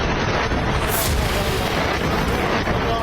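Glide bomb strikes and artillery explosions pound Idlib, Syria. A continuous, dense roar of blasts and rumble holds steady throughout, with a brighter burst early on.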